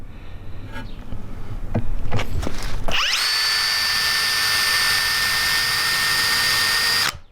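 Power drill boring a hole through a car oil pan for an S2000 supercharger install, a steady loud whine that starts after some handling clatter, runs for about four seconds and then stops abruptly.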